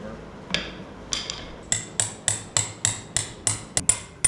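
Someone taps a hammer on a bolt to knock out a pilot bearing on a Lincoln Mark VIII during a V8 turbo swap. A few scattered strikes lead into a steady run of about ten sharp metallic taps, close and loud.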